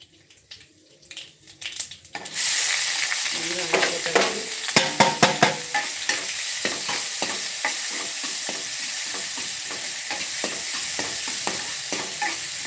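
Mustard seeds splutter in hot oil on a home stove, the quiet start breaking into a loud continuous sizzle with sharp popping crackles that thin out after a few seconds.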